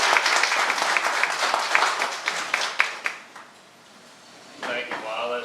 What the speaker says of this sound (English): Let's have a big round of applause for Commissioner Robert Gibbs and for putting this together.